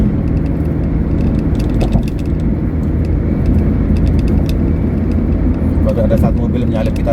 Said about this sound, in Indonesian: Kalau ada satu mobil menyalip kita tadi ya, plat merah.